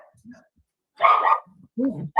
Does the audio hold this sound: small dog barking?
yes